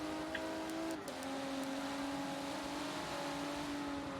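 Race cars in a sim racing game at Brands Hatch drone steadily, a sustained engine tone that dips briefly and then settles back to a constant whine with little change.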